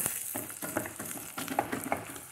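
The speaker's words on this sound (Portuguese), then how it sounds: "eu uso isso aqui, ó, que é um amassador de batata de madeira, que é pra não estragar minha panelinha." A wooden potato masher squashes potatoes in a small aluminium pan, making a series of soft, irregular squelching and tapping thuds.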